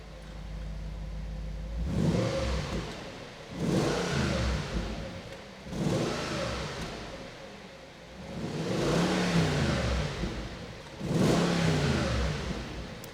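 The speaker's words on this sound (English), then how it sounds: "It's such a bassy exhaust tone." A B7 Audi RS4 Avant engine revs repeatedly with its exhaust flaps open, in several surging bursts, a deep, bassy exhaust roar rising and falling with short pauses between.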